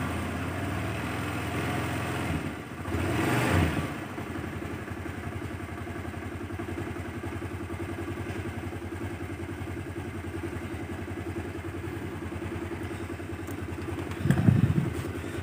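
A carbureted Honda Vario 110 scooter engine runs steadily and revs up, a continuous mechanical drone with a brief louder rise near the start and a clank near the end.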